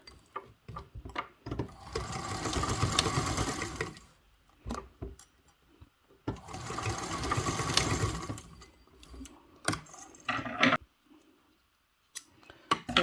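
A sewing machine topstitches a detachable backpack strap in two steady runs of rapid stitching, each about two seconds long, close and clear. Handling clicks and taps of the fabric fill the gaps, and no one talks.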